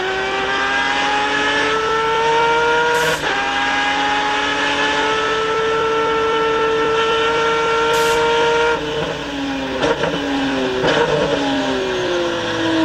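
Mazda sports prototype race car at a Grand-Am Rolex Sports Car race, recorded onboard: a loud, sustained high engine note holds steady, then dips in pitch around gear changes and braking before climbing again, with no talk.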